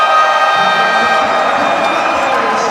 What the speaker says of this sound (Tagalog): Listen to this crowd erupt